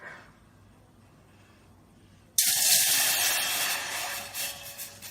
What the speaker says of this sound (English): make sure to add 3 cups of water